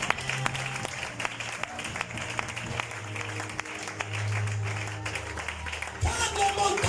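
A church congregation applauds and cheers in praise of the Lord, steady clapping and crowd noise running throughout with voices mixed in, growing louder near the end.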